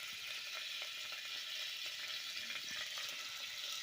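Green masala hits hot oil in a pan while cooking chicken bhaji, giving a steady, loud, close hiss of sizzling and frying that runs throughout, with a few faint stirring clicks and no talk.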